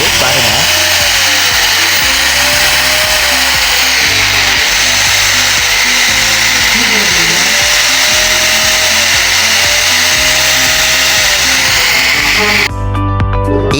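A repaired DeWalt 226 model electric drill runs steadily and loudly, its motor whine holding a continuous tone with slight wavering, before cutting off abruptly near the end.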